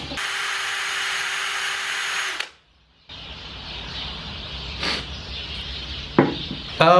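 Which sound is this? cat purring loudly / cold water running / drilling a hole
drilling a hole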